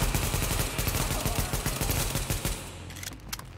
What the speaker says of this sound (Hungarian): Megpróbálunk egy jó irányzott lövéssel.